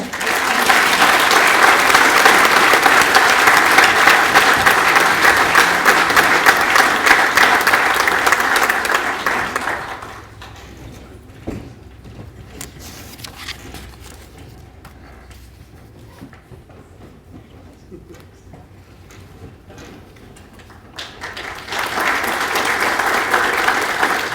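A high school awards ceremony audience applauds a performing arts fund award recipient, loud sustained clapping for about ten seconds before dropping to a quiet room, then swelling into applause again near the end.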